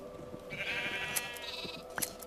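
Minecraft sheep bleating in a German gameplay session, a couple of wavering calls rising over background game music, clear and fairly close with sharp clicks near the end.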